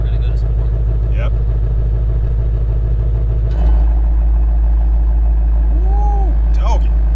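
In sport mode a Ford Mustang Shelby GT350 idles with a deeper, louder exhaust rumble close up; the tone thickens partway through, and a few faint chirps and a voice are heard over it.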